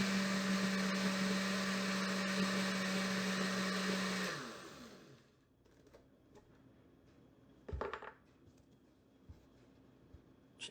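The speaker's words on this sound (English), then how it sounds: "See, the blender does it up really fast" A blender whirs loudly and steadily as it purees strawberry soup, then winds down and stops after about four seconds, leaving quiet with a couple of faint clinks and bumps.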